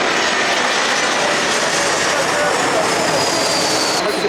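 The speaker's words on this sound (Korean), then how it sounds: "착륙하는 비행기" A landing airplane passes low, about 130 m up, near an airport. Its loud, continuous roar fills the whole stretch without letting up.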